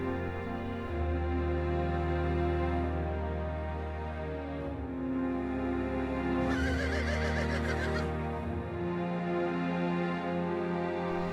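Horses in Kinnaur in the Himalayas neigh and whinny loudly and close by, in long drawn-out calls with a sharp, shrill burst midway.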